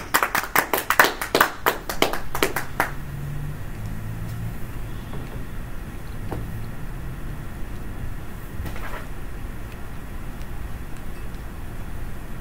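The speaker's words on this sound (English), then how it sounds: "Give her a round of applause." Audience applause at a Toastmasters humor meeting: a burst of hand clapping for about three seconds that quickly dies away, followed by quiet room tone with faint murmurs.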